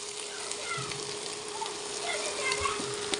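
Bitter gourd and onion with green chillies frying in a pan and being stirred, a soft steady sizzle with occasional scraping and low knocks, fairly quiet throughout.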